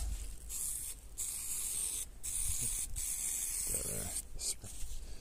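A steady aerosol spray hisses in bursts with short pauses between them, close and fairly loud, with faint voices in the background.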